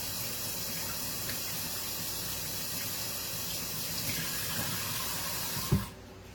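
Tap water runs steadily over grapes being rinsed, a continuous close splashing stream that cuts off near the end with a soft clunk.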